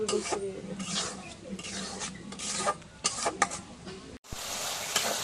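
Spicy masala paste being stir-fried in a pan for a meat dish, a steady close rasping scrape and sizzle with repeated stirring strokes, a brief break near the end before the scraping resumes.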